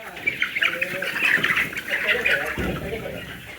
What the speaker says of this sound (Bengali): ফার্মি মুরগি